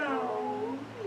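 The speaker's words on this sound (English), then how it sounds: "that was a little lonely kitten at the door" A lonely kitten meows at a door in one drawn-out, wavering cry that bends in pitch, close and fairly loud, with no talking over it.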